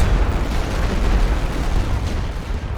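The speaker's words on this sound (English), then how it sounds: "This is their artillery coming in now." Artillery shells burst without letup in the Great War video game Elite Great War on the Western Front, a dense, loud rumble of booms layered into one continuous roar with no voices.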